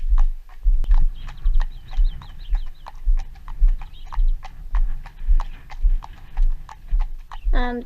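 Two horses led on foot across a road, their hooves clip-clopping in a steady walking rhythm, close and clear throughout.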